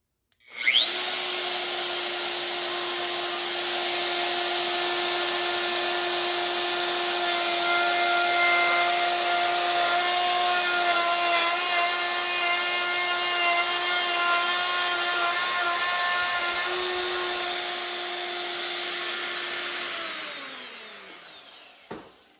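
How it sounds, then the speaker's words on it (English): A wood router with a bearing-guided bit cuts a rabbet 1/8 inch deep and 3/8 inch wide into factory Sprinter van floor panel being reused as sub-floor, giving a loud, steady high whine that spins down at the end. "It's going to cut it at a depth of 1/8 of an inch, and it's going to cut into the material 3/8 of an inch"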